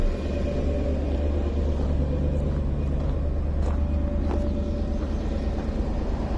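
A 2001 Audi A8L with the 4.2-liter Quattro engine, just restarted after running out of gas, idles with a steady, close, continuous low rumble and even hum throughout, with no talking.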